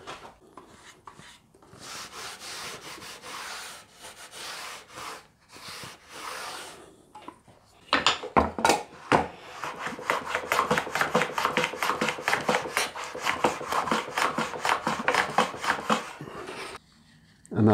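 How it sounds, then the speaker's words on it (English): Paste wax being rubbed by hand along a wooden running surface while finishing a guitar fretboard, a close, dry scrubbing and rasping in uneven strokes that grows louder and faster midway, with some speech in places. "I'm just going to rub some paste wax along this running surface."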